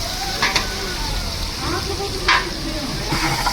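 Potatoes sizzle steadily in hot tempering oil in a pan as they are stirred, with a continuous hiss broken by a few louder scraping stirs.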